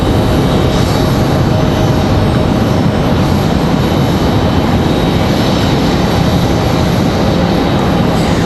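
Republic Airways airliner departing Raleigh-Durham, a loud, steady broadband jet engine roar holding constant throughout with no voices.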